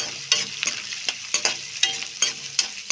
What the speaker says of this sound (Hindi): इसके बाद हम इसमें डाल देंगे अपना कटा हुआ लहसुन प्याज और मिर्चा को। इसको बराबर चला दीजिएगा।